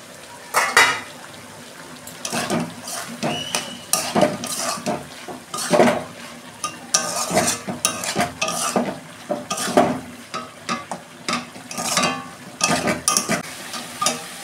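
A pot lid clinks open, then a utensil scrapes and stirs note shak greens in a pot over a gas flame with a light sizzle underneath. The strokes are loud, close and repeated, with no talk.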